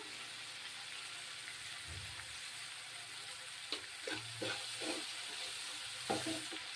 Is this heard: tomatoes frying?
yes